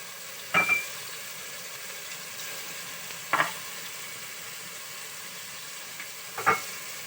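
Masala with garam masala and salt frying in a pan for matar pulao, a steady low sizzle broken by three sharp spoon-on-pan stirring clinks spaced a few seconds apart, fairly quiet and with no talking.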